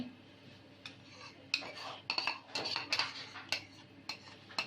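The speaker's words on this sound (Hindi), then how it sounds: "ये सारी चीज़ें हमने डाल दी इसमें और इसको मिक्स करेंगे" Spoon clinking against a bowl while beef tikka marinade is mixed: three kilos of beef with whipped yogurt, kachri powder, salt and spices, giving irregular close scraping and tapping strokes over a quiet kitchen background.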